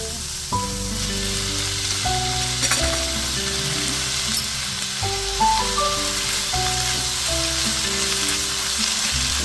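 Vegetables sizzle and fry in a hot pan for pancit-style Japanese ramen, a steady close hiss with occasional stirring scrapes and clinks, no talking.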